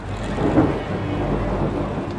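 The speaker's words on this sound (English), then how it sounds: "For the first time in the season, it is raining on race day." Rain and thunder on a Formula One race day, a steady broadband downpour with a low rolling rumble of thunder swelling near the middle and continuing throughout, fairly loud with no speech.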